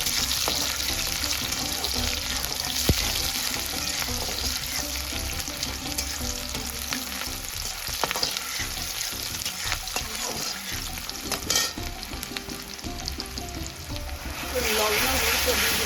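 A paste of tomato and spices fries in hot oil, giving a continuous, close sizzle with occasional stirring clatter, steady in loudness and briefly louder toward the end.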